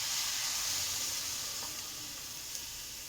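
Water is poured into spiced masala sizzling in a pan, setting off a loud, bright hiss that is strongest at first and then eases into a steady, softer sizzle.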